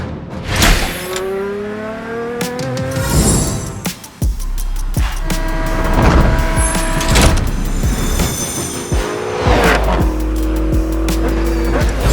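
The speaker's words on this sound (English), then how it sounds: "The classic Rolex 24 at Daytona is back to its absolute best, and we're green and racing." Race cars roar by at the Rolex 24 at Daytona, loud engines rising and falling in pitch as they pass in quick succession, with tire squeal mixed in.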